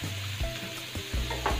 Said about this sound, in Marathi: हाय फ्लेमवरती आपल्याला परतून घ्यायचा आहे।